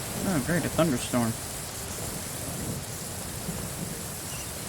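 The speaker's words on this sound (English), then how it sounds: "Oh, great, a thunderstorm." Steady rain hisses across a thunderstorm scene in the video game Genshin Impact, with low rumbling thunder rolling under a brief voice at the start, then the downpour continuing evenly and fairly loud on its own.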